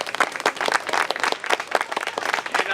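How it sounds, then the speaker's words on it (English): A small group gives a round of applause for new members at a gathering, with brisk, uneven claps up close running steadily throughout. "Give another round of applause."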